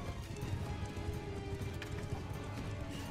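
Horses in a video game, with faint rhythmic hoof clip-clops trotting along under a low, muffled game soundscape.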